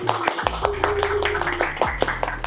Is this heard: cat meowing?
no